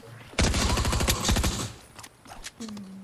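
Rapid burst of gunfire in Fortnite aimed at a llama, a loud dense volley of shots lasting about a second, followed by quieter game sounds and a brief tone.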